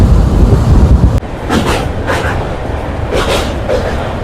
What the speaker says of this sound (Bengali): আমাদের কাঞ্চনকন্যা এক্সপ্রেস দাঁড়িয়ে এবার ট্রেন ছেড়ে দিল আবার সেই পাহাড়ের উদ্দেশ্যে